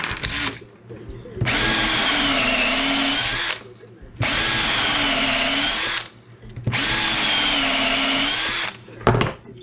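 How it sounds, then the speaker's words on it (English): A power drill bores through wine corks in three long, even bursts, each a few seconds long, with short pauses and clicks between them. "I will drill some corks and I need 6 pieces"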